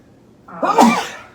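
A single loud sneeze, close up, with a short breathy intake leading into the sharp burst.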